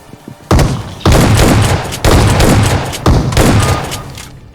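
Shotgun blasts in a battle royale video game, four loud heavy booms about a second apart, each followed by a rumbling decay, with no talk over them.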